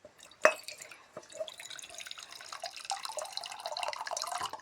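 Water starts coming out on a farm: a sharp splash, then a trickle that builds into a steady, fairly close stream of running and dripping water.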